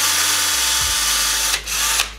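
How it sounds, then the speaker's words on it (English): A power drill fitted with a countersink bit bores a countersunk screw hole in a DIY whiteboard, its steady high whine running loud and close, with a short dip as the bit catches near the end. "press and drill. You end up with a nice countersunk hole"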